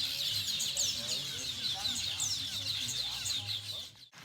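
Weaver birds chirp and twitter busily outdoors under blue skies in the Maluti Mountains of the Eastern Free State, bright overlapping calls with a low murmur beneath.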